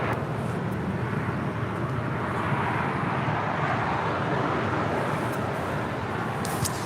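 A Boeing 787-10 Dreamliner airliner at LAX, a broad continuous jet roar with rumbling low end, steady and fairly loud, like a distant landing aircraft passing.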